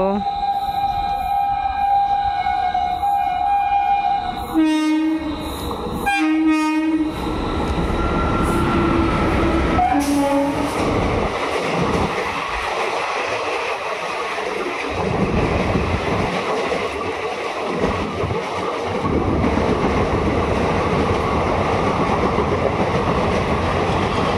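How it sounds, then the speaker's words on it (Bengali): A train pulls into New Jalpaiguri railway station, loud rumbling and clattering across the platform with a long horn blast and brakes screeching, while bursts of talk and station noise mix in. "তো দেখতে পাচ্ছি এখন ওই যে ট্রেন আসছে, এই যে ঢুকে গেল।"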